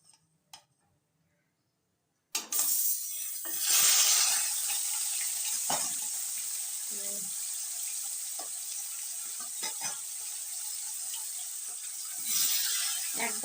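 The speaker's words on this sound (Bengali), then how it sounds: "তো এখন আমি কড়াইয়ের মধ্যে এক এক করে মাছের মাথাগুলো আমি ছেড়ে দেব।" Katla fish heads dropped into hot oil in a wok set off a loud, steady sizzle, with a few sharper spits and crackles over the continuous hiss, close up and with no talking.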